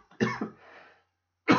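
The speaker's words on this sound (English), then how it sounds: "Big cough." A man coughs twice in quick succession, close and fairly loud, followed by a short raspy throat sound, then another sharp cough after a brief silence.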